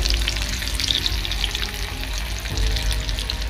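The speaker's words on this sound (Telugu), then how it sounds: "వేసి డీప్ ఫ్రై చేసుకున్నామండి" Cauliflower pieces deep frying in hot oil in a kadai over a medium flame for cauliflower 65, a steady close bubbling sizzle that holds throughout with small crackles and pops.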